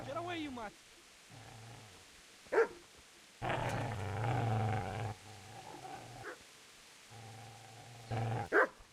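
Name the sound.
dog growling and barking in video game Kingdom Come Deliverance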